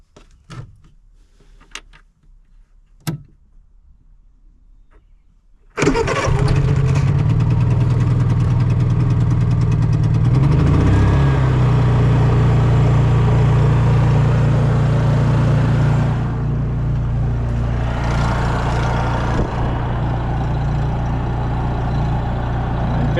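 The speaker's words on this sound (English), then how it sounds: "Let's fire up the generator and see if this works." A portable generator engine starts after a few faint clicks and pulls, catches suddenly, and settles into a loud, steady running drone that continues through to the end without talk.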